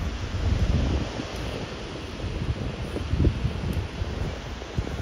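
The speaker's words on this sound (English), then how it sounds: "Oh, just another waterfall." A waterfall on the Milford Track pours in a steady, broadband rush of falling water, continuous and fairly close, mixed with some wind buffeting, with no voices.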